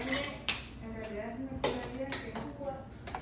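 A small spoon stirring a mimosa cocktail with a splash of gin in a glass, giving light metallic clinks and tinkles against the rim in an irregular rhythm, a voice speaking underneath.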